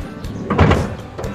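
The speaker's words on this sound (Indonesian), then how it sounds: "kalau yang kiri itu ada sliding door-nya elektriknya, dan yang kanan itu manual. Kita hanya perlu menghentakkan sedikit dan dia ada vakumnya" The manual sliding door of a 2010 Nissan Serena HWS Autech is pushed closed and drawn shut by its vacuum soft-close, giving a single muffled, close thunk with a brief mechanical pull.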